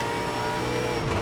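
A V8 Supercar engine in a racing game roars under full throttle while powering out of a corner, a loud, steady, dense mechanical drone with rising revs filling the whole moment.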